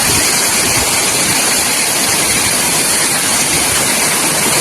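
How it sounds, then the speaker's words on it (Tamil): Overflowing lake water rushes over a spillway near Sholinghur, a loud, steady roar of churning water that fills the whole moment without pause, close by and with no voices. "பார்த்தீங்களா இதெல்லாம் தண்ணி அதிகமாக வருது."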